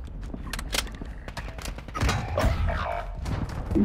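Gunfire in Call of Duty: Modern Warfare II arrives as sharp, irregular shots and short bursts aimed at the player, loud and close, over a rumbling battlefield background.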